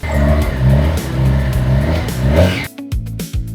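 A Kawasaki Ninja 1100SX motorcycle's 1100 cc inline-four engine revs loudly and rises in pitch several times, then drops to a rough idle broken by short blips of throttle.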